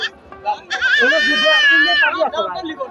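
Goat bleating at a rural goat and sheep market in Ullapara, one long wavering bleat loud and close, with shorter calls around it and people talking nearby.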